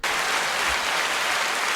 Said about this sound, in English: The little applause button.